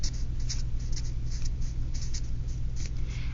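Pen or pencil writing a hypothesis by hand on paper, a steady soft scratching with short strokes over a constant low hum.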